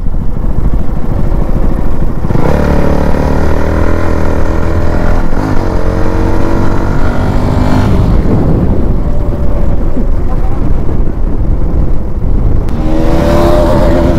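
A motorcycle fitted with an exhaust gas kit revs loudly and steadily, its engine note rising and falling in repeated throttle blips that stay close and dominant throughout, with no talking.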